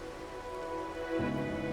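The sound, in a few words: rain in the video game Wuthering Waves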